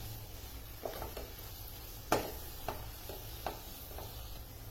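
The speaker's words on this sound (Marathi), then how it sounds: "तर याला छान मिक्स करून घेऊया." Wheat flour upma (ukadpendi) is stirred in a pan, giving a series of soft scraping and tapping strokes, one sharper knock, over a faint steady background.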